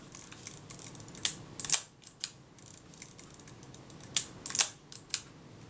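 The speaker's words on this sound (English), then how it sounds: "so I'm backing the screw up" Small screw being backed out of the frame counter adjustment in the top cover of a Kodak Retina Ib camera, with faint close clicks and scratchy metallic ticks in a few brief bursts over a quiet background.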